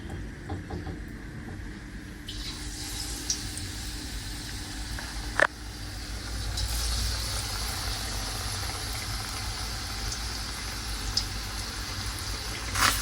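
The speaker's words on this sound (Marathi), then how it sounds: "चला तर तेल तापले, आता तेलात सोडू." Spinach fritters (palak bhaji) frying in hot oil in a home kitchen, a steady broadband sizzle running throughout with a sharp clink near the middle and low hum beneath.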